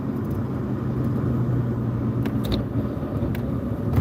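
A 1981 Ford Mustang cruising on a road, a steady low engine and road rumble with constant tyre and wind noise, heard from inside the car without any talking.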